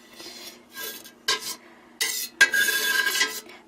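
A long knife slices through goat cheese curds in a pot for feta, giving soft wet scraping and swishing strokes in several separate bursts, close and moderately loud, with no talking.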